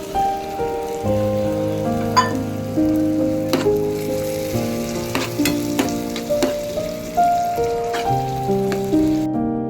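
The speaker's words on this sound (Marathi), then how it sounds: "आता आपला कांदा आणि टोमॅटो हा व्यवस्थित असा फ्राय झालेला आहे तेलामध्ये. कोळंबी टाकू." Prawns are added to onion and tomato masala frying in oil, giving a steady sizzle and crackle with scattered pops and stirring scrapes under a sustained melodic background tone.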